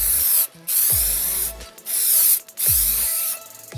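A spray gun dusts paint onto a car door in short hissing bursts, four or five loud close blasts separated by brief pauses, with no voices.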